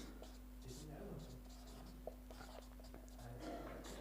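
Faint scratching of a pen or chalk writing on a board during a Hindi alphabet lesson, soft irregular strokes set against a steady low hum in a quiet room, with a voice murmuring softly.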